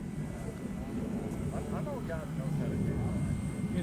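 A radio-controlled XF-85 Goblin model aircraft flies overhead with a steady, droning engine hum that holds level throughout, while people talk faintly in the background outdoors.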